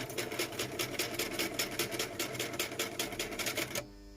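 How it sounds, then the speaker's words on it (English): A sewing machine stitches through fake leather card stock in a fast, regular rhythm of sharp mechanical clatters, close and steady, then stops abruptly near the end. "this sewing machine has been driving me potty"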